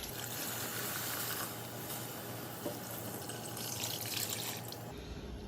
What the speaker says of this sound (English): so after 2 minutes, we're gonna go ahead and add our beef stock in.